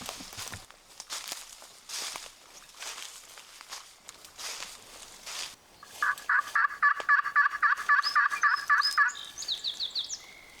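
Wild turkeys gobble from a field beyond a stone wall in Maine, a rapid burst of repeated rattling gobbles ringing out after several seconds of quieter rustling and distant calls, moderately near and with no one talking.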